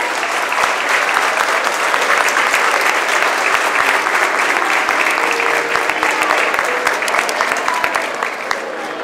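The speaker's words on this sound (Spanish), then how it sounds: "lo último que les voy a pedir es un fuerte aplauso para toda esta gran" A school community audience bursts into loud, sustained applause, dense clapping filling the space evenly for several seconds before tapering slightly at the end.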